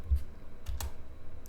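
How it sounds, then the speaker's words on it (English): Computer keyboard typing, a few light, scattered key clicks with soft thuds in a quiet room. "you just start typing"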